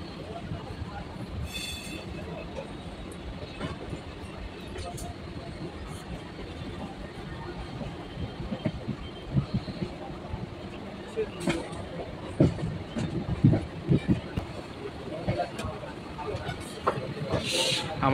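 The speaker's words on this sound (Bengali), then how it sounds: "আমাদের ট্রেন এখন ধীরে ধীরে হাওড়া স্টেশনে প্রবেশ করছে।" Train slowly entering Howrah station, a low steady rumble of the coaches with clanks, wheel squeals and rail joint knocks growing busier toward the end, and someone talking over the noise.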